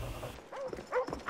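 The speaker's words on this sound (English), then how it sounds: "Dogs. The enemy dogs." Enemy dogs in Call of Duty: Black Ops bark in a short, quiet burst of yelps during a team deathmatch on the Crisis map, mixed with other game sounds.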